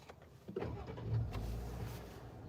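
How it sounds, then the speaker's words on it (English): A 2025 Jeep Willys starts up: a quiet click and whir give way to the engine catching and settling into a low, steady idle close by, with no talking. "Start it up"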